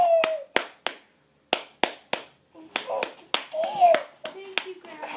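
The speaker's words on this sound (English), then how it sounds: "Can you clap, clap, clap?" A small child claps hands at home, a series of sharp separate claps with short pauses, while adult voices talk encouragingly between and over them.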